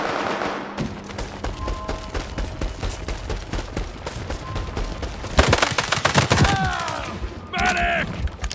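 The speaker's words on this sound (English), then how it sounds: "Shooting mechanics is really good, feels realistic." Gunfire in the multiplayer tactical shooter World War 3, with rapid automatic bursts and scattered shots running throughout, close and loud, and a heavier volley near the end.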